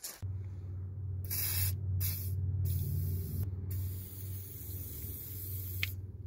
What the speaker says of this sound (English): That's WD-40 being applied on all 3 mounts.